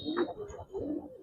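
Giribaz silver and coloured pigeons coo close by: a short, soft run of low, throaty cooing pulses, with no talk.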